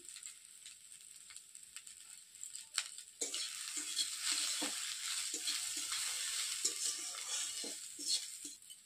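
Asafoetida (hing) dropped into hot oil sets off a soft, steady sizzle that jumps in intensity partway through, with light stirring scrapes over quiet frying, heard close but fairly low in level.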